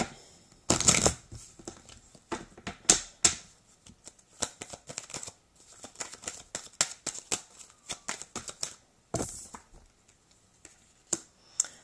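Tarot cards are shuffled and drawn close up in dry, crisp bursts of riffling and flicking, with sharp card snaps scattered irregularly between quieter handling.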